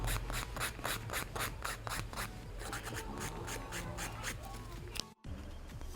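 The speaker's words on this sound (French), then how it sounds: "vous continuez à poncer, à limer" Nail file rubbing and sanding the color layer off acrylic false nails, rapid scratchy back-and-forth strokes repeating close up with no voices, ending in a brief pause.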